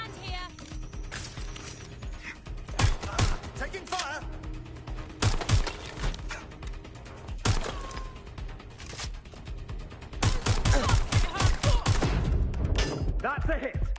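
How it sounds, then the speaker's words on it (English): Rapid gunfire crackles through a firefight in Watch Dogs: Legion, with repeated sharp bursts over a dense mechanical din and shouted voices throughout, growing louder and busier toward the end. "I'm getting shot. I'm pinned down. I need a hand here. Taking fire!"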